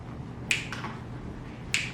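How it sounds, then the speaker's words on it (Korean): Three sharp finger snaps ring out, crisp and close, with the first two in quick succession and the third after a longer pause, all over a quiet room background. "이게 무슨 소리죠? 딱 소리입니다."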